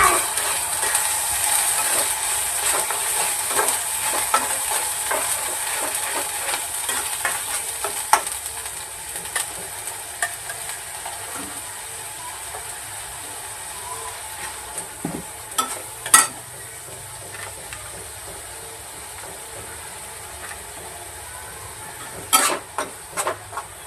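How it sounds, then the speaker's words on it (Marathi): Masala paste frying in oil in a pan for a cashew and paneer curry, a constant high sizzle and hiss with occasional stirring clicks and scrapes, louder bursts near the end, and no talk. "हा वाटप पण आता छान तेलामध्ये भाजून घेणार आहे"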